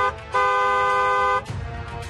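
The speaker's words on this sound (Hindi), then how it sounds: "हॉर्न बजाना जरूरी है।" A vehicle horn blares in one long, loud, steady honk of about a second, then cuts off into traffic noise.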